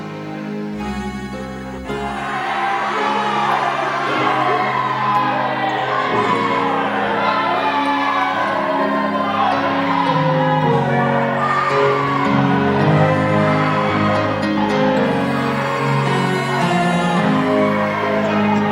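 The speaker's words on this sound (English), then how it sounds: "The crowd began to yell." A crowd at a church Easter passion play yells and shouts together in a dense, sustained roar that swells after a brief quieter opening and holds loud throughout, with whoops and raised voices layered over music.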